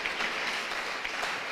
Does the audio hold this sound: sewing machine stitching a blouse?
no